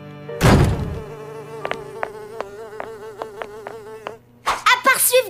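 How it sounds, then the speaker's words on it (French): A cartoon housefly buzzes steadily for several seconds, the drone broken by a run of rhythmic clicks, with louder bursts of sound at the start and end. "une mouche."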